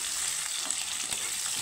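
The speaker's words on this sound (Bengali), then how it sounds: "তো আলুটাকে আমি একটু হালকা ভেজে নেব" Boiled potatoes lightly frying in a pan with whole cumin, a soft, steady sizzle with faint stirring, quiet and close with no voices.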